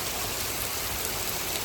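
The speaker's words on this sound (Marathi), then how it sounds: "पाऊस सुरू झालेला आहे" Rain pouring down as a dense, even hiss of falling water that stays at a constant moderate level, with no voices or other sounds standing out.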